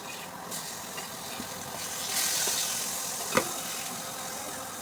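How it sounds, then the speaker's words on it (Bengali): Food sizzles steadily in a hot pan as it is turned over and fried to a reddish brown, with a single sharp utensil knock near the end. "দেখুন উল্টে পাল্টে ভেজে নিচ্ছিলাম।"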